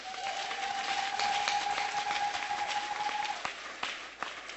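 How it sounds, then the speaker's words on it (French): A church congregation at a Sunday service claps together in sustained applause, a dense wash of hands that tapers off near the end, with a steady electronic tone running through most of it. "Est-ce que tu peux d'abord acclamer bien pour toi-même?"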